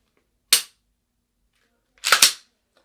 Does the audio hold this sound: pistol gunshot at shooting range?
yes